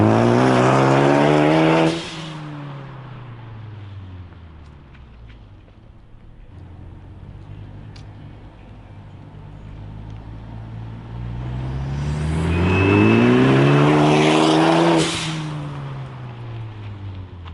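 Ford Focus ST with an Invidia Q300 exhaust passes by twice, accelerating loudly with a rising, then falling engine note each time and a quieter stretch between the passes.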